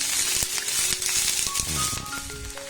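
Two medium chopped onions sizzling in a pan for masala dosa while they are stirred, with a steady frying hiss, soft scraping and a few faint tonal beeps near the end.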